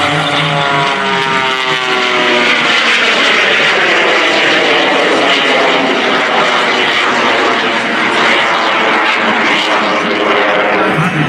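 Jet-boosted Waco biplane from RAD Aerosports flying a display at the 2022 Blue Angels Homecoming Air Show, its loud propeller engine roar sustained and steady with a rising and falling whine throughout, no talk.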